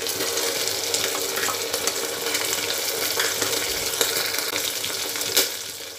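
Chopped tomato frying in a hot pan for quick Maharashtrian masala rice, a steady close sizzle with faint stirring scrapes and no talk.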